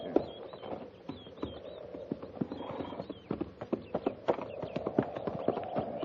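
Horses' hooves clip-clop in a steady walking rhythm beside a stream, close and distinct, with jingling tack, an occasional whinny and faint background sound.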